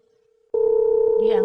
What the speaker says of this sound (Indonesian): Saat itu juga handphone berdering.